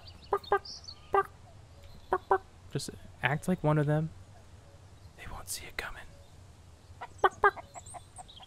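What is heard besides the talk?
chickens clucking in video game Mist Survival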